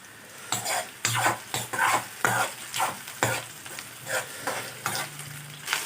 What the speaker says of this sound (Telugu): ఒకటి పచ్చిమిరపకాయలు వేసేస్తాను, బిర్యానీ ఆకు వేస్తానండి.